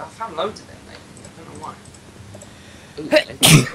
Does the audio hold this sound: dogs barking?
no